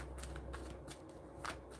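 Tarot cards being shuffled by hand, a quiet run of soft riffling and sliding bursts alone, with no talk.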